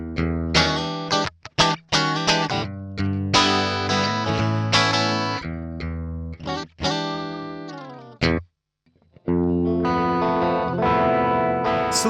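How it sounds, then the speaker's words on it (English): Electric guitar played through a Vox Valvenergy Silk Drive pedal with built-in cabinet simulation, bright chords and notes with mild overdrive, strummed in bursts with brief pauses and one short silence before a sustained chord. "Silk drive stays clean until the gain knob reaches 2 o'clock or so, and then you can get some distortion out of it"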